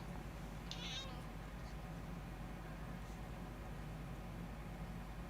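A cat meows once, briefly and faintly, in a room filled with a steady low hum and broadband noise, followed by a fainter, softer second call.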